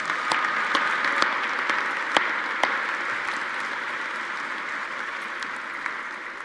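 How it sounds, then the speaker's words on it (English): Applause at a university winter commencement ceremony: a large audience claps steadily in a reverberant hall, a broad even wash of hands with occasional sharper individual claps popping out, fading slightly toward the end. "Let's give them all a round of applause."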